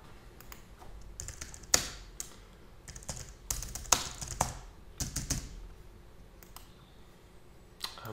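Keystrokes on a computer keyboard as data is entered into a form, irregular bursts of clicking taps with brief pauses, close and fairly soft, with no voices.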